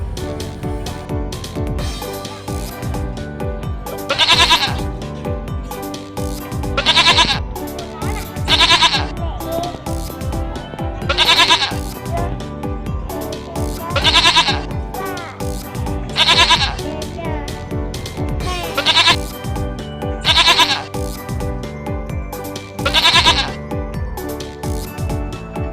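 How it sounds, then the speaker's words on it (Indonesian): A goat bleats again and again, about ten loud, clear calls spaced a couple of seconds apart over a steady bed of music. "Goat."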